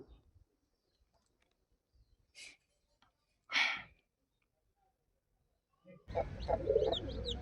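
Chickens mostly quiet with a couple of brief soft calls, then a burst of clucking and bird chatter rises toward the end.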